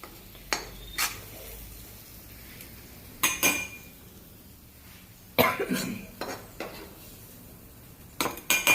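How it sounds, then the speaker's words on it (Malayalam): A cooked chickpea mixture being scraped from a pan into a mixer jar, with spoon clinks and clatters against metal in scattered bursts, close by in a quiet room. "നമ്മളിത് മിക്സിയുടെ ജാറിലോട്ട് മാറ്റി വയ്ക്കാം"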